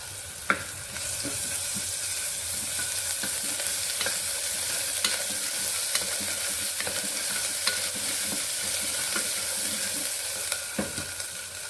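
Ginger frying in a pan for a mutton kofta curry gives a steady, close hiss of sizzling oil, with scattered clicks and scrapes as it is stirred and a few sharper pops along the way.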